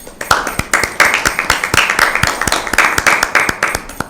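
A small group at a Bible quiz claps for team A, sharp close hand claps falling in a quick, fairly rhythmic stream that stays loud throughout.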